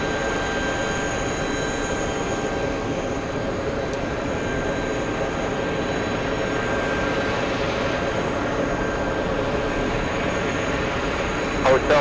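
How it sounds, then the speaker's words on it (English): A JetBlue Airbus A320 arriving at JFK from Fort Myers produces a sustained jet roar with a faint high whine, holding level throughout, while faint radio-like voices sit underneath. "Close-up arrival, we have JetBlue's 1430 flying in from Fort Myers."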